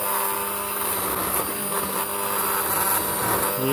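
Blender pureeing leeks and potatoes for potato leek soup, a loud, steady motor whir running throughout without pause, close to the listener.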